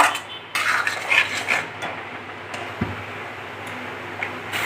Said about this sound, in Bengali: এটা একটু কষাতে হবে